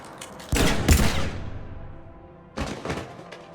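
Gunfire in the Mass Effect 3 video game: a burst of sharp, loud shots near the start, a decaying echo, then a second cluster of shots toward the end.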